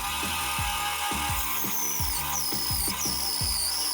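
A bandsaw runs steadily while shaving a thin slither off a wooden handle, a continuous motor hum and blade whine with a series of short, repeated cutting bursts close by.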